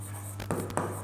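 A pen scratches across paper in two quick strokes, soft and close, over a steady low electrical hum.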